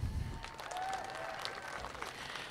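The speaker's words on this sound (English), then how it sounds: "Please give the biggest round of applause possible." A crowd at a high school football game applauds veterans, with steady clapping that sounds fairly faint and distant and carries on without a break.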